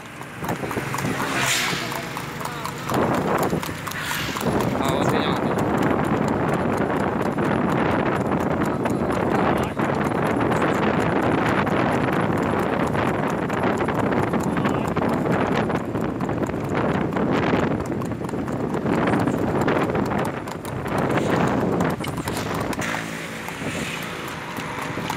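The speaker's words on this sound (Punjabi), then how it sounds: "ਇੱਕ ਸਾਈਡ 'ਤੇ ਰੱਖ ਘੋੜੀ ਜਾਣ ਦੇ" A three-year-old desi-breed mare walks outdoors, her hoof clip-clops partly buried under constant loud wind buffeting the microphone.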